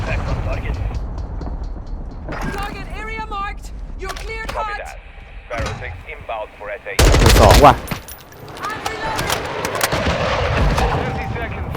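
Air strike bombing in Call of Duty Modern Warfare II brings loud, heavy blasts and rolling gunfire, with one sudden, intense explosion burst partway through amid a busy battle soundscape.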